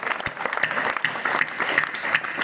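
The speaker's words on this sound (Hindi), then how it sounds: "मैं चाहता हूं कि सदन की तालियां इन दोनों के सम्मान में बजे।" A crowd at a 2024 Hindi poetry gathering in Sukheda breaks into brief, steady applause. Many hands clap together throughout.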